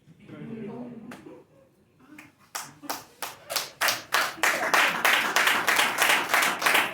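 A product-training audience starts to clap after brief talk, a few scattered claps that quickly build into a rhythmic, increasingly dense round of applause.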